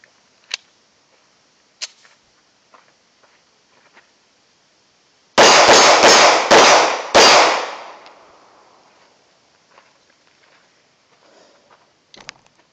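A Llama 9mm pistol fires a quick string of about four loud, sharp shots in rapid succession, ringing out briefly before fading, with a few faint clicks and handling noises before and after.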